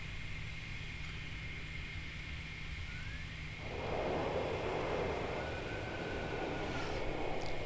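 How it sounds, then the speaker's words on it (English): Airplanes fly in the video game Transport Fever, producing a steady broadband jet roar that swells louder partway through and stays continuous. "It's quite a lot of planes when you think about it."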